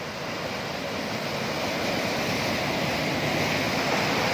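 Water rushes steadily through the Fateh Canal near Chishtian in a loud, broad hiss, a continuous roar of flowing water with no pauses or voices.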